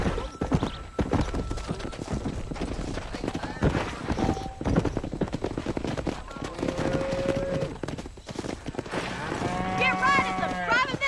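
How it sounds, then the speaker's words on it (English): A herd of cattle in the video game Red Dead Redemption, driven down a road, fills the scene with continuous clopping hooves and repeated drawn-out moos, with voices and shouts running underneath. "Herd the cows down the road."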